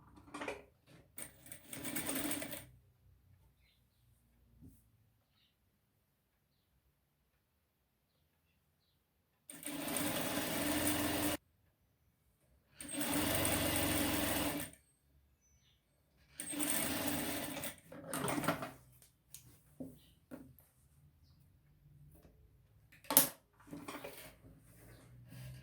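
A sewing machine stitches embroidered trim onto a cloth diaper in loud, close bursts of rapid mechanical whirring lasting a few seconds each, with quiet gaps and small handling noises between runs.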